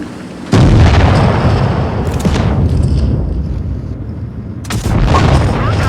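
Tank cannon fire in a tank video game: heavy booming blasts, one sharp loud shot followed by rumbling and a second boom near the end, all close and dominant.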